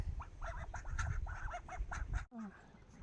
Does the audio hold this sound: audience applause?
no